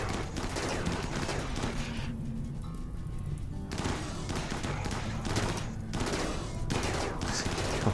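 Colonists fire guns during a fight in the video game Rimworld, producing dense, continuous volleys of rapid shots and crackling bursts that fill the whole stretch, with faint talk beneath.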